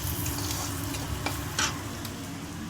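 Chopped potatoes with salt being stirred in a hot frying pan: a continuous close sizzle with scraping strokes of the spoon against the pan rising now and then.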